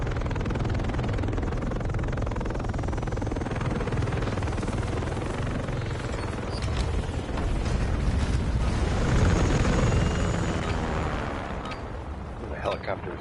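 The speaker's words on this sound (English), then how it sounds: "The helicopter is insane." Helicopter rotor and engine roar in a multiplayer shooter, a dense steady drone that swells louder near the middle before easing, with gunfire-like bursts and voices mixed in.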